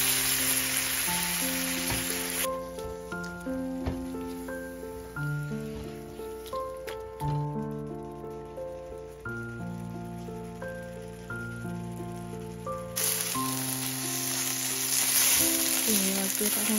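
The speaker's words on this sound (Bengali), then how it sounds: "ভাজা চিংড়ি মশলা দিয়ে দিলাম, আর একটু হলুদ আর লবণ উল্টো।" Shrimp frying in a pan with spices, turmeric and salt sizzle loudly at the start and again near the end, while a gentle melodic tune plays throughout and the hiss drops away in the middle.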